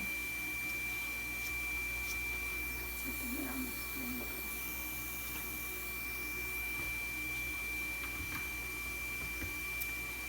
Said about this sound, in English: I take my squeegee and I push the ink across the screen